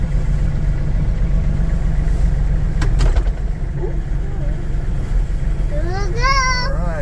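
A tractor engine idles and rumbles loudly and steadily while a child steers it toward a hay bale on a farm, with a voice and an adult's speech over the engine drone.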